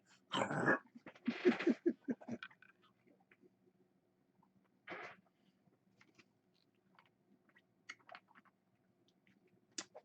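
Small, sharp crunching bursts as a dog chews salted cashews, loud at first and then sparser and fainter, separated by quiet gaps.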